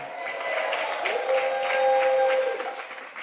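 A gala audience at the Ironbound Community Corporation's Newark Rising cocktail event gives steady, moderately loud applause, with a few cheers and a sustained whistle-like tone rising through the clapping.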